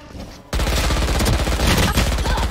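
Rapid bursts of automatic gunfire in a competitive shooter match erupt after a quiet half-second, staying loud and dense to the end with a faint voice underneath.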